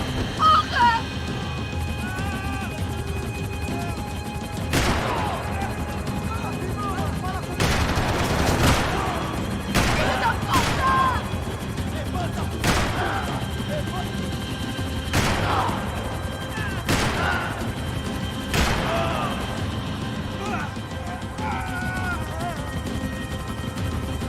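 In the Max Payne 3 video game, bursts of gunfire crack repeatedly over a constant engine drone while characters shout urgently over the shooting.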